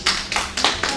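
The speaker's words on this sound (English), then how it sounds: "Okay, give applause to Sabira." A small classroom group claps in four or five quick, uneven bursts during a teaching session. The claps are close and fairly loud, with no talking over them.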